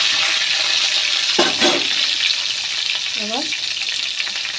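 Green chillies hit hot frying oil after potatoes have been fried, for a vegetarian patol and paneer dish; a steady, close, hissing sizzle runs throughout, swelling briefly as they go in, with a short spoken word.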